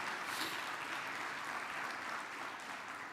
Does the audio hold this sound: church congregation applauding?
yes